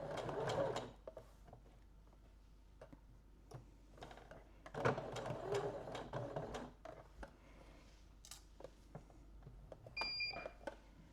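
A domestic sewing machine stitches through fabric in short bursts while a point d'arrêt (backstitch) is made, the motor whirring in quick runs separated by brief pauses, with a couple of faint beeps near the end.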